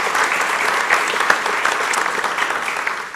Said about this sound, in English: Would give him a round of applause